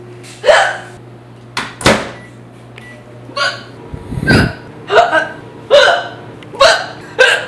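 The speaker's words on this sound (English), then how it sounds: "You got some hiccups?" Loud, close hiccups from a woman recur at a steady pace of about one per second, with a soft thump and a brief laugh-like sound mixed in over a faint background hum.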